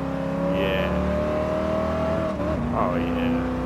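Race car engine revving in the Gran Turismo video game, a steady loud engine drone with shifting pitch and a gear change near the end, under excited talk from a player.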